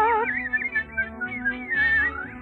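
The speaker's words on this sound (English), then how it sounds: "Just whistle while you work." Someone whistles a lively, bouncy work tune, a clear close melody with quick trills and steps, heard alone without speech.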